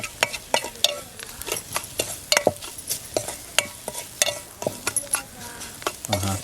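Chili powder and masala are stirred into oil in a frying pan for a tangy Konkan-style dish, with rhythmic scraping and tapping of a spoon against the pan over a soft sizzle, close and distinct.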